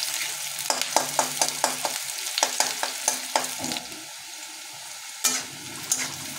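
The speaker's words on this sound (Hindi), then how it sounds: "अब प्याज को हमें 2 से 3 मिनट लगातार इसे फ्राई कर लेना है।" Chopped onions and kalonji sizzle in a pan while a spoon scrapes and stirs in quick repeated strokes, a close crackling fry that pauses briefly before stirring resumes.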